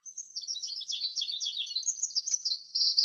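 A bright coral-coloured bird calls in a rapid, continuous stream of high, twittering chirps that run unbroken and clear, with no other sounds behind them.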